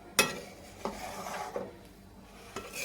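Beetroot barfi mixture is stirred and sautéed in a pan, with faint scraping strokes of a spoon against the metal at irregular intervals and a soft background hiss.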